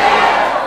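Students in a classroom shout an answer together, a brief, loud burst of many voices at once.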